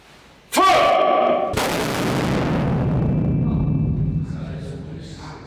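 An artillery piece fires at the Batterie de l'Éperon, a single sharp, very loud blast whose deep rumble rolls out and fades slowly over several seconds, with a brief burst of voices and noise just before it.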